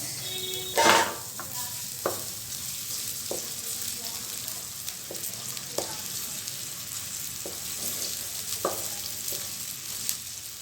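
Onions for dhaba-style mixed dal fry gently in about two tablespoons of oil. The sizzle is close and steady, broken by a loud scrape early on and by a series of brief clinks and scrapes from stirring.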